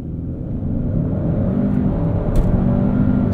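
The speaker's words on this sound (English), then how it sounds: "Brake, heavy on the accelerator, you can adjust your RPM here." A 2021 Hyundai Sonata N Line with the 2.5-litre turbo engine accelerates hard from a standstill, a steady close engine roar and drivetrain rumble building continuously with no talk over it.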